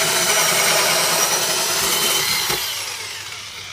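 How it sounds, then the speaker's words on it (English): A power drill bores a large hole through soffit material for a vent, a loud, close, continuous whirring grind that tapers off as the bit comes to a stop. "If you want, you can still drill in between them."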